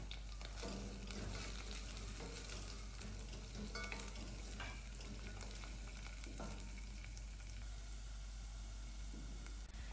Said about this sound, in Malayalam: എന്നിട്ട് നന്നായിട്ട് വഴറ്റിയെടുക്കാം